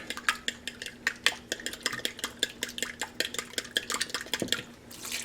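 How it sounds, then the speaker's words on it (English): A utensil rapidly stirs cookie batter in a bowl, producing a fast, steady series of clacking scrapes against the bowl, close and clear with no talking. "Now, I'm going to mix this up"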